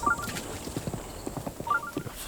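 Horse hooves clip-clop in The Legend of Zelda: Breath of the Wild, a steady trotting rhythm of quick, close hoofbeats over faint game ambience.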